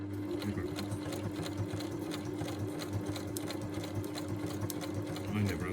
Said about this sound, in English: I never had a sewing machine at school that went backwards